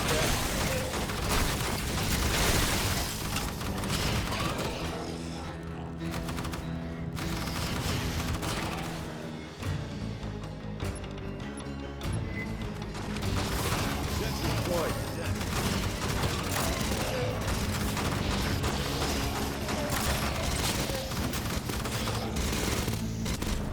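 Continuous gunfire in the PS5 shooter Aliens: Fireteam Elite as capacitors on a wall are shot out, rapid overlapping bursts with booming impacts and game effects running the whole time.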